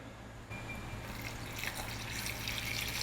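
Half a litre of water pours into a pot of mango curry seasoned with turmeric and curry leaves, a steady close splashing that starts abruptly and grows slightly fuller as the pot fills.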